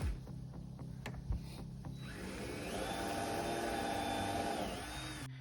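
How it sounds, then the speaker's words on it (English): A power drill driving screws into roof framing for a tiny house, a steady close whine that ramps up and holds for several seconds after a few short taps and knocks. "Just while I get 2 screws in."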